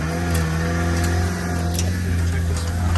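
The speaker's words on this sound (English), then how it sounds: "The engine's so quiet, man. I don't even know it's running." Mini truck with four-wheel independent suspension idles steadily nearby, a low, even engine hum running continuously with no voices over it.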